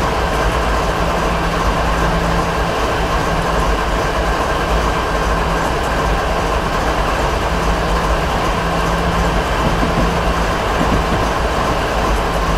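A train in Train Simulator 2015 backs up around curves, with a continuous loud rumble of wheels and rail, rhythmic clickety-clack and a faint steady tone running underneath, and no voices.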